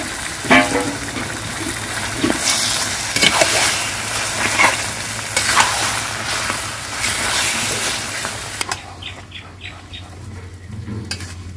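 Fish frying in a pan in a Bangladeshi village kitchen, a steady loud sizzle with crackling bursts and stirring, ending with a few faint bird chirps.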